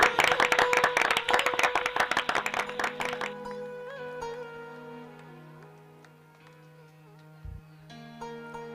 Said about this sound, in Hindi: सभी लोग ताली बजा करके स्वागत करें।